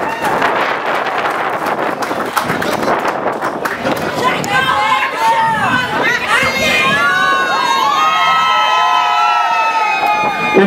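Crowd at a public housing key-handover ceremony in Brazil, with government officials arriving on stage, claps and cheers loudly and continuously, mixed with shouting and bustle, while excited voices and whistle-like cries rise toward the end.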